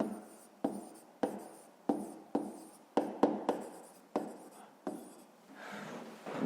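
Pen strokes scratching across paper while working through a fifth-grade maths exercise, about a dozen short taps and scrapes in an irregular rhythm, close and fairly quiet, with a faint rustle near the end.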